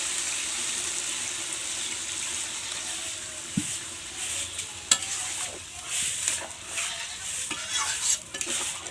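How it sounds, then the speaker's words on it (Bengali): Chicken curry with bay leaf and garam masala simmers after water is added, giving a steady, close sizzling bubble with a few sharp clinks of a spoon against the pot. "তেজপাতা দিয়ে আর গরম মশলা দিয়ে এখন জল দিয়ে অল্প উতলাতে দেবো"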